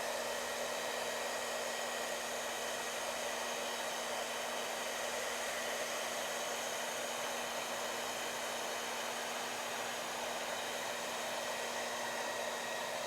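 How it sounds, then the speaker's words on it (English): A hair dryer blows steadily and close for the whole stretch while working rotten-skin effects on a corpse prop, a constant broadband whoosh with a fixed motor hum and no talking. "Hair dryer on."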